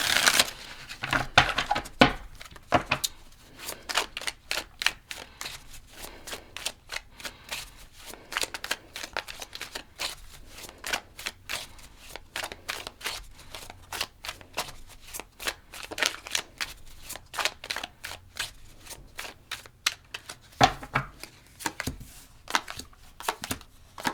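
Tarot cards being shuffled by hand, a long run of crisp, rapid riffling and slapping bursts with brief pauses between, close and fairly loud with no talking.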